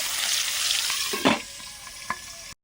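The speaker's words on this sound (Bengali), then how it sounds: "ট্যাংরা মাছগুলো ভেজে নিচ্ছি" Tangra fish coated in salt, turmeric and chilli powder fry in hot oil with a steady, close sizzle, broken by a couple of brief clinks and stirring knocks, no voices.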